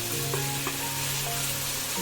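Cashews sizzling in hot oil with green chillies, ginger and garlic for a restaurant-style mixed vegetable dish, a steady close frying hiss with faint stirring clicks and no talk.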